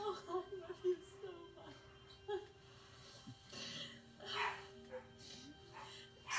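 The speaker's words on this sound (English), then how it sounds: "Sorry, that's my dog, if you can hear barking." A dog barks and yips a few times in the background, faint and intermittent, mixed with a person talking.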